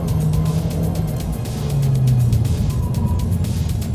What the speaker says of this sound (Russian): Вот уже и вторая передача выкручивается в отсечку.